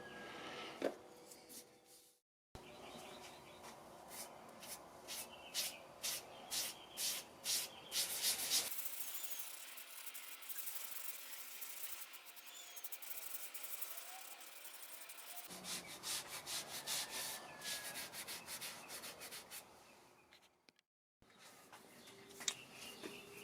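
Steady back-and-forth rubbing strokes of sanding paste rasp against a turned wooden vase up close, pausing briefly before resuming in bursts of rhythmic scrubbing.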